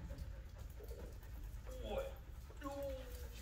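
A dog pants and whimpers faintly nearby, with soft breathy huffs and a few brief high whines under low background noise.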